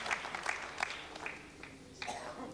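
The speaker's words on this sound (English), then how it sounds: "Separation of Insat 2E has been announced, and of course there's warm applause, relief, everybody is happy." Warm applause breaks out in an Ariane launch control room as satellite separation of Insat 2E is announced, a few scattered claps and cheers rising and fading over a low room background.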